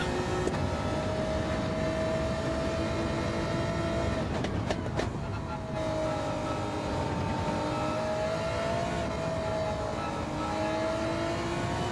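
Race car engine in a racing video game, a sustained high whine that shifts pitch with gear changes and brief lifts, loud and continuous without talk.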